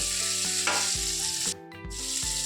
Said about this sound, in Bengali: চিকেনটা ভেজে নেওয়া হচ্ছে।